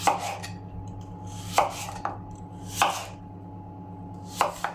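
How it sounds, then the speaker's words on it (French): Knife chopping apples into quarters for a tarte tatin: four sharp, clear cuts on a board spaced about a second apart, close and alone over a low steady background hum. "Et on va se tailler des quartiers."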